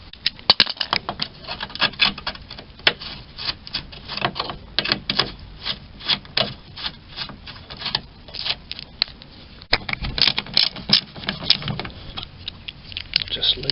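A hand ratchet loosens square-ended bolts with thick washers on a Mk5 VW Golf door during a driver's window fault check, giving rapid dense clicking in bursts with short pauses, close and sharp.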